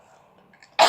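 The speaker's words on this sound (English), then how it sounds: "I'm sorry, I have to cough." A single short cough bursts out loudly at the end, after a near-silent pause with a faint hum in the room.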